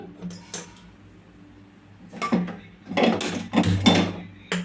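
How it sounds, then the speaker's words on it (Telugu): A metal kadai set onto a kitchen stove and the stove switched on, giving a few clanks and knocks followed by louder rattling contact sounds near the end. "నేను అయితే ఒక కళాయిని అయితే పెట్టానండి స్టవ్ ఆన్ చేసుకుందాము"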